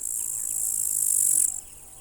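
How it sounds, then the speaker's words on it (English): Grasshoppers chirp in a meadow in Matsalu National Park, a steady, high buzzing trill that carries on evenly, then cuts off near the end. "Friction generates the chirping sound that brings partners together."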